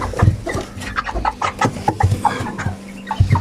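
Broiler chickens clucking close by while being fed, with a run of short, busy clucks and low fowl calls overlapping one another throughout, with no talk.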